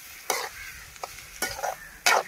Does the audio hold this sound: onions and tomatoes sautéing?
yes